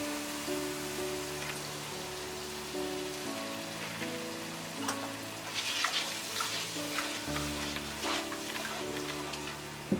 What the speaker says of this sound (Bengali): আমি হাফ কাপের মতো এখানে পানি ঢেলে দেবো